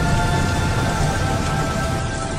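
Steady, dense rainfall in a heavy downpour, a loud continuous hiss and patter that holds evenly throughout with no pauses.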